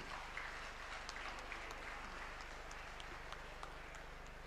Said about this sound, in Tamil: நல்லா உற்சாகமாக கைதட்டுங்க.